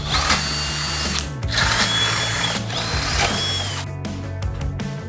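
Power drill boring mounting holes into replacement fenders on an abandoned Nissan Skyline being rebuilt, a steady close whine running in bursts with brief pauses between and a few clicks and clatters near the end.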